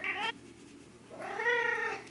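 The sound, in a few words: cat meowing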